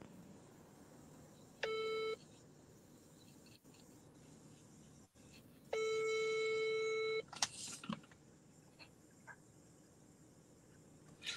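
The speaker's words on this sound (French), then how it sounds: "Y a quelqu'un qui appelle mon téléphone" A mobile phone rings with an incoming call in two bursts of electronic beeping tones, one short and one longer, over a quiet room with faint background noise and a brief handling clatter afterward.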